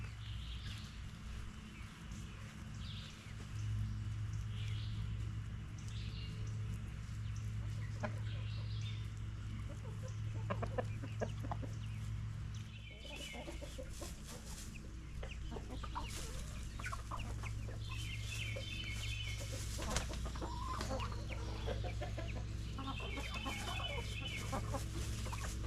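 A small flock of backyard chickens clucks and murmurs steadily at moderate distance around fresh straw, with occasional louder squawks and a low farmyard hum throughout.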